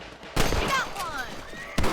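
Gunfire from hunting rabbits in the video game Red Dead Redemption: two loud, sharp shots about a second and a half apart, each followed by a ringing tail, with faint game audio between them.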